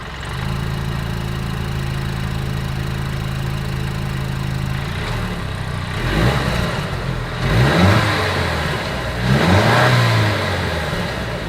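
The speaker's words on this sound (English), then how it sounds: "As always, here is that exhaust clip." A 2023 Mercedes-Benz E 350 sedan idles smoothly, then its exhaust rises through three short revs, each swelling and falling back to a steady idle, heard close and alone.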